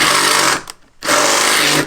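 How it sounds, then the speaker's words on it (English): A power drill with a 5/16 bit bores holes in the body of a 2017 Toyota Tacoma for an ARB Safari snorkel, two loud close whirring bursts separated by a brief pause. "Drill through all the holes."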